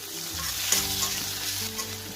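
Chopped onion and tomato fry in a pan for a party-style chicken curry, a steady close sizzle with light stirring scrapes and no talking.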